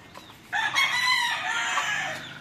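A John Bishop Kelso gamefowl rooster lets out a single loud, drawn-out crow close by, with faint clucking just before it and no talking.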